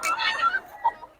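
A Boston Roundhead gamecock gives a brief run of close, clear clucking notes, alone and fairly loud.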